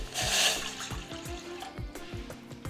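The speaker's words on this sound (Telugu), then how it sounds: "మనం ఏ కప్పుతో పిండి తీసుకుంటామో ఆ కప్పుతో వాటర్ పోసుకోవాలి." Water pours from a cup into a vessel while making a sweet payasam, a close, continuous splashing trickle that is strongest at the start and then settles into a steadier gurgle.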